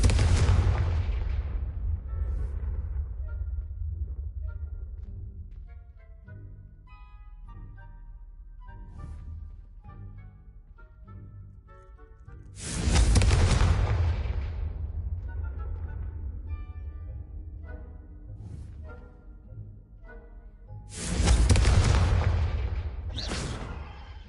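Repeated Confringo fire-blast spells in Hogwarts Legacy, with a loud booming explosion near the start and two more sharp, heavy blasts later, separated by quieter game sounds and music.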